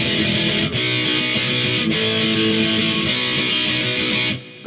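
Distorted electric guitar plays a song's chord progression, a loud, continuous, driving stream of strummed power chords with steady rhythmic chugging that cuts off abruptly near the end.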